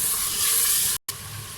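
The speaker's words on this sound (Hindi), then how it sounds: "थोड़ा सा हम इसमें पानी शामिल करेंगे ताकि टमाटर अच्छी तरह से गल जाए और पेस्ट सब उसका तैयार हो जाए" Tomatoes sizzle loudly in a hot pan after water goes in, a bright hissing fry that cuts out for a moment and then resumes more softly, close up with no voices.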